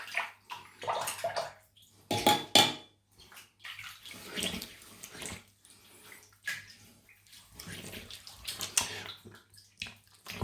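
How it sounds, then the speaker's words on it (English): A Wilkinson Sword Classic safety razor is swished and rinsed in a basin of water during a wet shave, giving repeated splashing and sloshing bursts with brief drips between them, close and fairly loud with no talk. "Rinse off."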